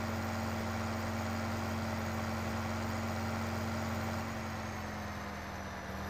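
A truck engine idling in a farming video game, a steady low drone with a constant hum, continuous and unchanging throughout, slightly easing near the end.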